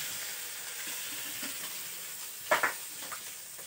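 Tomatoes frying in a pan, a steady, fairly quiet sizzle with a couple of brief louder crackles near the end, no speech.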